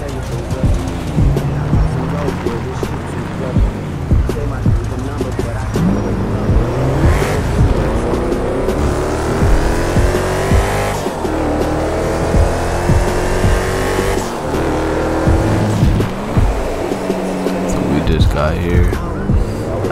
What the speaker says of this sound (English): I'm over here driving, so I'm in the SRT.